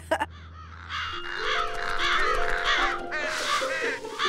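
Several crows caw repeatedly in a cartoon scene of birds eating cherries, their harsh calls layered over a steady musical background with sustained tones.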